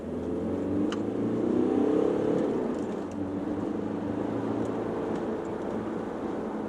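A remapped Audi A4 2.0 TDI diesel accelerates hard, its engine note rising and swelling early before settling into a steady, strong drone heard from inside the car.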